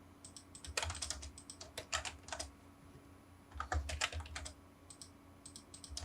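Someone typing numbers and pressing enter on a computer keyboard during AutoCAD drafting, heard as two close clusters of crisp, light key taps in quick irregular rhythm, with soft scattered taps afterward and no talk.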